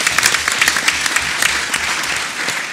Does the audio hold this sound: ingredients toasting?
no